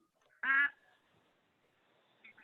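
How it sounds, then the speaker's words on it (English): A single short, nasal duck quack sounds fairly close during an online meeting, standing alone in otherwise quiet surroundings, with a faint chirp following. "did I just hear a duck, Sajay?"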